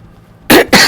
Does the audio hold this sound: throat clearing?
yes